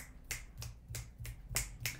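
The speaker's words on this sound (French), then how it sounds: "Mes mains sont possédées par le claquement de doigts" Fingers snap six times in a steady, even rhythm, crisp and close, each snap sharp and clear against a quiet background.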